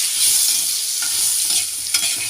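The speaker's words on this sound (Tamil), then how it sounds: "அந்த எண்ணெயிலேயே நல்லா வதக்கணும்." Onion sautéing in oil in a pan for a coriander chutney, a steady close sizzle with stirring scrapes and a few brief clicks, no talking.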